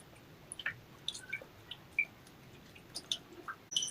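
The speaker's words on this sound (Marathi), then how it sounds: "तर आता पाण्यामध्ये मी स्वच्छ ह्या लोण्याला धुवून घेते।" Homemade butter is washed by hand in clean water, giving quiet, close squelches, soft squishes and scattered drips that come in irregular bursts over a hushed background.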